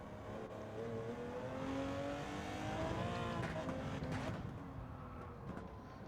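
A Porsche 917K race car at Spa in Gran Turismo 7 holds its engine note at a steady in-car level, the revs rising and falling in smooth harmonic sweeps as it is taken through a corner in second gear.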